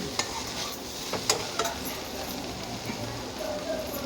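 A spatula stirs a carrot and potato fry in a pan, with scraping strokes and light clicks over a soft sizzle in a short burst.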